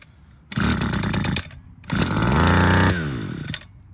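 A two-stroke hedge trimmer engine fires in two bursts, first a short rough start, then a longer rich-running rev that rises and settles into a lower idle before dying, loud and close with no talk.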